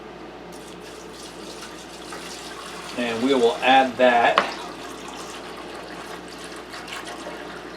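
Lukewarm water pours from a gallon jug into an ultrasonic cleaner tank, a short splashing burst of a few seconds that sits over quiet room tone, with someone speaking briefly.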